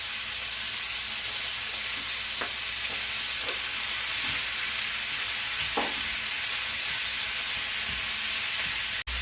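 Chunks of stew beef sear in a hot pan for a low-carb slow cooker chili, giving a loud, constant broadband sizzle with occasional soft clicks of stirring throughout.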